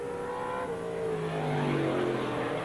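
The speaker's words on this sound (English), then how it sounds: "The car sounds real strong, looks good." A race car engine revs hard at Midvale Speedway in 1981, its steady rising drone loud and continuous with pitch climbing as it accelerates, no voices over it.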